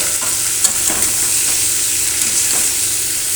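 Potatoes, eggplant, beans and onion stalks frying together in a pan, with a constant loud sizzle and a few scraping stirs of a spatula cutting through the hiss.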